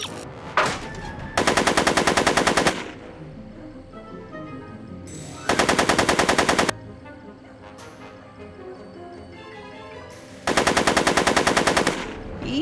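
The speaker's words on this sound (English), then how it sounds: "Are you shooting at me?" Rapid automatic gunfire in Back to the Future: The Game comes in three loud sustained bursts, each lasting about a second, separated by quieter stretches of background game sound.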